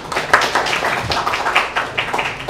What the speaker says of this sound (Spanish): un aplauso para vos